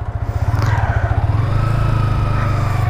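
A Yamaha XSR 155 VVA motorcycle engine runs close by, a steady rapid idle throb with a slight rise in pace partway through, no talking.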